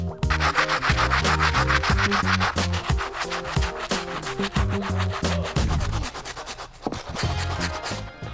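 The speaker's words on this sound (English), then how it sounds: "I'm gonna move on to the outsoles, and I'm gonna use the Stiff Bristle Brush." A stiff bristle brush scrubs the outsole of a Nike M2K Tekno sneaker with steady, rhythmic back-and-forth rubbing strokes, close and fairly loud, over what seems to be background music with a beat.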